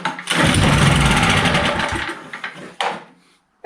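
A whacker plate compactor pulled from a dumpster runs loudly with a rough, buzzing small-engine drone that sputters and dies away after a few seconds, with a brief mechanical clunk near the end.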